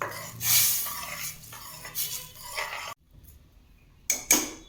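A spoon scrapes and clinks around inside a pot of turkey berry curry with tamarind water in irregular stirring strokes, with a brief quiet pause before a final couple of clanks.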